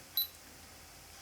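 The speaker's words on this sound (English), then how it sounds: "And now I can take a picture." Point-and-shoot camera shutter firing once, a single quick, faint click in an otherwise quiet room.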